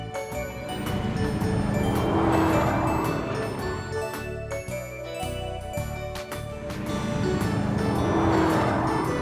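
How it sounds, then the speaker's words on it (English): Toy-style shark cruiser car in a children's animation, heard as a revving engine with tire noise and bright tinkling jingles in two loud swells around a brief dip, and no talk. "Shark cruiser car."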